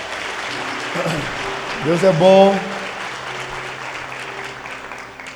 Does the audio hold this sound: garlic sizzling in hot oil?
no